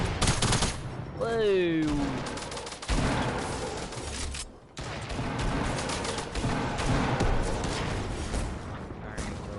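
Gunfire in the video game Fortnite, rapid bursts of shots crackling almost continuously, loud and dense, with a brief exclaimed voice early on.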